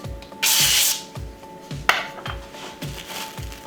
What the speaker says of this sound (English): Also to kind of spray your plastic wrap so it doesn't stick.